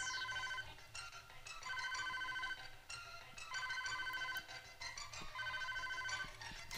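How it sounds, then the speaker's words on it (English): A telephone rings in the Mischief Makers video game, a repeating electronic ring in four evenly spaced bursts over soft game background sound, with no speech. "A phone call?"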